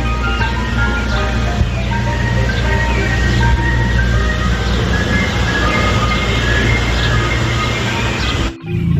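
A toy ice cream truck plays a continuous, loud jingle melody over a mechanical hum, sounding up close and cutting off abruptly just before the end.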